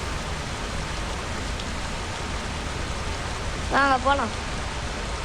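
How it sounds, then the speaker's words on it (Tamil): Steady rain hisses across an open-world scene in the video game Indian Theft Auto, an even wash of falling water, with a short spoken phrase near the end. "மழை பெய்யுது."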